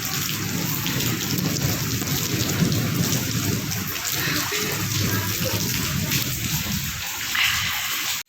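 Steady, heavy rain pours down in a dense wash of noise with low rumbles underneath, continuous throughout and fairly close.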